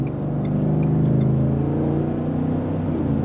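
A 2023 Ford F-150 Tremor pickup with a 5.0L V8 accelerating under light throttle, its deep engine rumble building steadily and holding loud and close throughout, with no talking.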